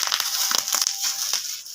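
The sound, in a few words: packing bubbles being popped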